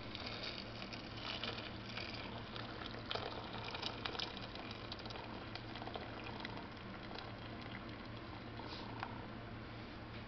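Boiling water is poured over duck hearts in a cooking pot, giving a steady, moderately quiet bubbling, churning liquid noise that runs continuously with small splashy peaks and no talking.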